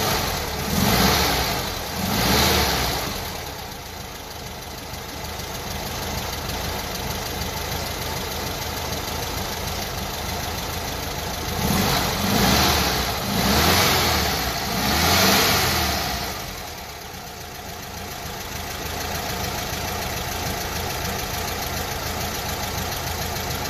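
A 1974 Volkswagen Brasília's engine runs steadily close by, with a couple of louder revving swells early on and again mid-clip, settling back to an even idle between them.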